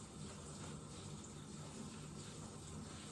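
A faucet runs steadily during hand washing at a sink, giving a constant, moderately faint rush of water that holds level without a break and with no voices over it.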